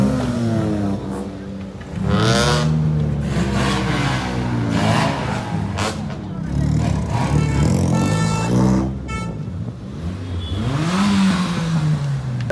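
A car engine revs repeatedly at a college auto expo, rising and falling in loud, close surges as vehicles move off together, with people talking over the engine noise.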